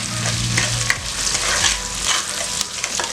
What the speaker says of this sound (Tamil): வெங்காயத்தை கொஞ்சம் செவக்காக வதக்கிடலாம்